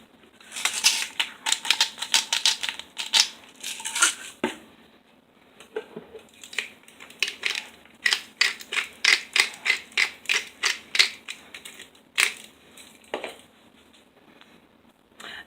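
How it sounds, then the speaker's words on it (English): Salt and pepper ground onto salmon by hand, a rapid series of close dry crunching, rasping grinder turns arriving in bursts with short pauses between, no talk. "And we're going to put salt and pepper on the front."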